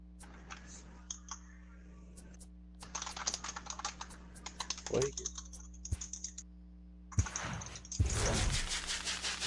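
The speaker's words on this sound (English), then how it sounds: "his ass is over there typing up a fucking storm" Rapid, dense clatter of keys on a computer keyboard being typed on fast, in continuous bursts with short pauses, close and fairly loud, while people talk in the background.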